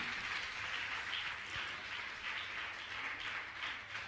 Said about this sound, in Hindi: तालियां आपकी बजती ही रहना चाहिए।